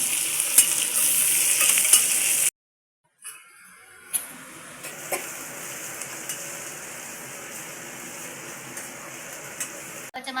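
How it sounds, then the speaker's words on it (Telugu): Close, steady sizzle of onions and green chillies frying in oil for amaranth-leaf curry. A brief silent gap cuts in partway through, then the quieter frying resumes with occasional stirring clicks. No speech is heard. "తాలింపు ఉప్పు వేస్తే ఉల్లిగడ్డలు మిరపకాయలు మంచిగా జల్ది గోలుతాయి."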